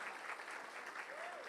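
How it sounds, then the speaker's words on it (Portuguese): A church congregation applauds during a Sunday sermon, with a faint, even wash of clapping from many hands heard at a distance. A voice sounds briefly over it. "Aplauda Jesus."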